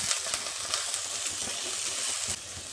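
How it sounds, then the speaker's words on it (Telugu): Carrot, beans, cauliflower and green peas fry in a pan with a steady, soft sizzle and hiss that continues without a break. "క్యారెట్ ముక్కలు, బీన్స్ ముక్కలు, కాలీఫ్లవర్ ముక్కలు, పచ్చి బఠానీలను వేసుకొని వేయించుకోవాలి"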